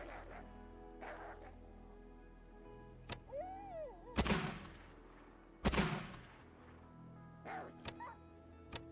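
Musket fire in the RimWorld video game cracks out in several sharp, loud reports a second or so apart, mixed with softer impact sounds and a brief whooping game effect.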